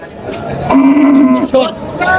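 A cow at a livestock market moos once, a long low drawn-out call, close and loud, with a short second grunt near the end over faint background noise.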